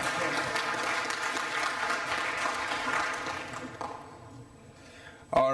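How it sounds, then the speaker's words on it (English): A conference audience applauds in a steady burst of clapping that fades over several seconds, followed by a brief sharp knock at the end. "So please give them another round of applause."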